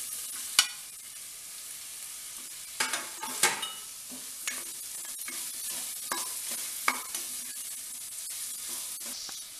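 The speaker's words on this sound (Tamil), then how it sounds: "மிளகாய் ஓரளவுக்கு வதங்கினா போதும்" Green chillies with ginger garlic paste and whole spices sautéing in a pressure cooker for vegetable pulao, a steady close sizzle broken by scattered scraping stirs, with no voices.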